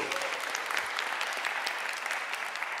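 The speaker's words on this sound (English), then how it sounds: "Can we have a round of applause?" Steady, dense audience applause at a dance festival, a continuous wash of many hands clapping at moderate distance, with little else heard.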